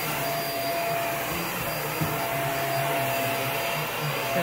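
A Hoover React Professional Pet vacuum cleaner runs on carpet, a loud steady whine and airflow roar with a faint high tone, continuous and close with no talk.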